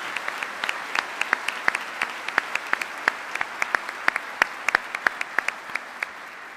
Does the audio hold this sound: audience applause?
yes